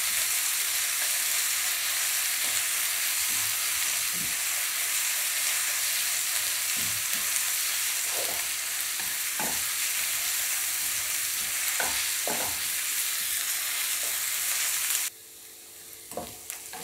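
Onions sauté for egg curry, a steady close sizzle in the pan broken by occasional stirring clinks and scrapes, until the frying suddenly drops away near the end.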